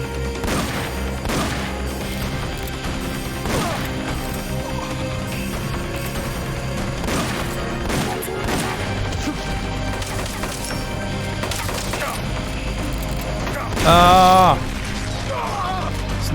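Gunshots from a weapon in the video game Metal Gear: sharp, separate cracks fire at irregular intervals over a busy background of music and effects, with a louder whistling sweep near the end.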